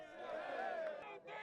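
A home crowd at a high school football semifinal between Leland and Santa Clara, with cheerleaders performing, roaring and yelling together in a brief, distant-sounding burst of cheers.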